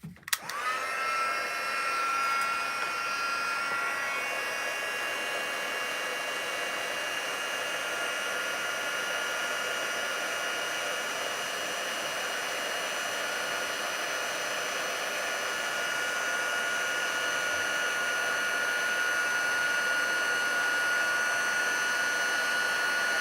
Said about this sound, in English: Okay, I'm going to heat emboss that.